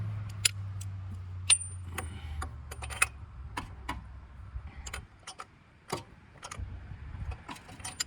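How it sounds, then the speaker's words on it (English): A breaker bar works a bolt on a Nissan during rear coolant pipe replacement, with sharp, irregular metallic ticks and clicks spread across a quiet garage background. "I'm gonna use a breaker bar. Give it probably like a quarter turn."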